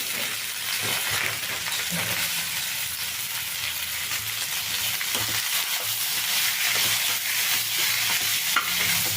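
Tomatoes frying in a pan for a country chicken curry give a loud, even sizzle and hiss that runs throughout, with faint stirring underneath and no one speaking.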